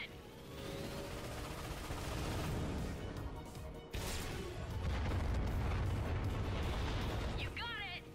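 Missile explosions in the Ratchet & Clank PS4 game, a sustained heavy rumble of blasts and booms with a sharp impact midway, and chirpy game sounds near the end.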